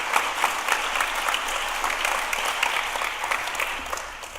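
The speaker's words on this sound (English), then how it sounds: "You can give him a round of applause." A congregation applauds for a rabbi during an incoming synagogue president's address, a sustained, moderately loud roar of clapping from a large room, continuous and even with scattered sharper claps throughout.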